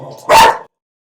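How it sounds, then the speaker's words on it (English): A dog gives a single loud, close bark that cuts off abruptly, with only a faint murmur before it and silence after. "Xena was barking at something, and so Xena went off."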